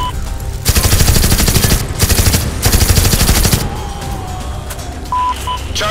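Gunfire rattles in the PC game Dead Alliance: two long bursts of rapid automatic shots, loud and close, followed by quieter electronic beeps and tones.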